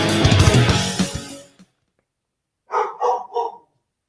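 Dogs barking in a quick burst of three yelps near the end, after loud music cuts out and a short silence.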